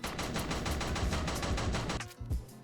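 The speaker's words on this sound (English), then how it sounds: "We have a like Gatling gun." A Gatling gun in the VR shooter Plastic Battlegrounds fires a rapid, continuous burst of close, loud gunfire for about two seconds before it cuts off into a few scattered thuds.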